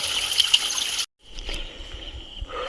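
Fresh natural mountain stream water flowing near a village, a soft continuous trickling rush that cuts out for a moment and resumes more quietly, with no talk.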